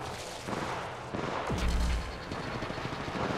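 Gunfire in the mobile shooter Apex Legends Mobile, bursts of shots cracking over a noisy battle backdrop with a heavy low thump midway, dense and close.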